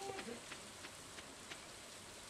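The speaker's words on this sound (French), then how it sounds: "Ah, il pleut." Steady soft rain falling in the Stardew Valley beach farm, a faint even patter with scattered little drop ticks, quiet and continuous with no voices.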